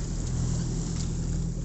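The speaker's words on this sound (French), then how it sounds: "On traverse la baie au moteur" A sailboat motors across a bay near Neapolis, its engine giving a steady, close, low droning hum with no speech.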